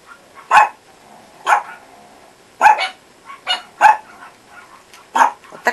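A dog barks several times in short, sharp bursts spaced a second or so apart, fairly close and loud against a quiet background.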